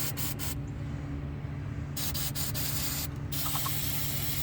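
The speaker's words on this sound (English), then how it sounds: "parts cleaner, brake cleaner, whatever. Spray these bolts." Short bursts of brake cleaner spray hiss onto strut bolts of a 2009 GMC Acadia over a steady mechanical hum, several sprays in quick succession with brief gaps.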